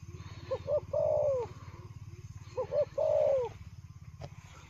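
A Gù Lèo Rồng dove gives two clear, nearby coos a couple of seconds apart over a low, steady rhythmic hum, with no voices.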